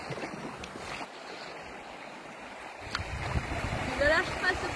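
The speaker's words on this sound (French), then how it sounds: "On descend la cascade," A boat plunging down a waterfall in a video game, with steady rushing water and churning surf that swells louder toward the end, while people talk over it.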